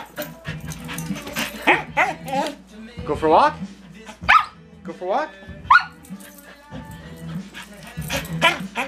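A dog whimpers, yips and barks in short bursts, close by and often overlapping a person who keeps talking to it.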